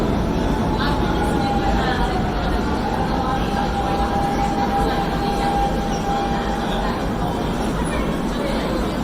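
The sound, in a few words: Lisbon metro train running on 750 V DC third rail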